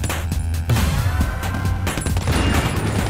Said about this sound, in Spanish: Ahora vamos a probar el disparo con carga especial contra esas torretas de misiles.